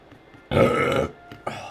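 A single loud, close burp lasting about half a second, followed by a shorter, softer second burp, in an otherwise quiet room with no talking.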